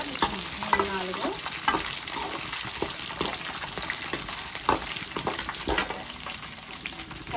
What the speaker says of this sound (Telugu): తాలింపులు కూడా వేగిన తర్వాత మనం పచ్చిమిర్చి సన్నగా చీలికని వేసుకోవాలి